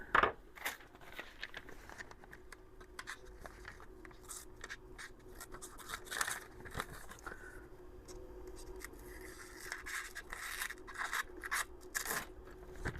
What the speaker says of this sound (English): It doesn't want to cut paper